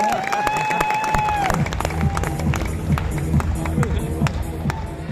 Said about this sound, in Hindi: इनके लिए भी जोरदार तालियां ना